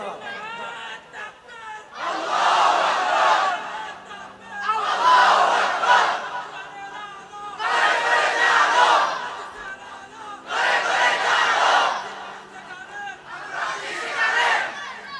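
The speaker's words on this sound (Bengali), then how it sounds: "দাঁড়িয়ে স্লোগান দাও লিল্লাহি তাকবীর" A young man and a large crowd at an Islamic religious gathering chant the slogan "Lillahi Takbir" in five loud, rhythmic bursts, each roaring crowd shout separated by brief pauses.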